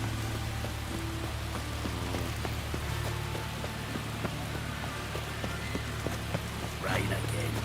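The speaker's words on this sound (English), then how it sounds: "Rain again." Continuous video game rain hisses evenly over a low steady hum, with faint tonal game sounds flickering in the background.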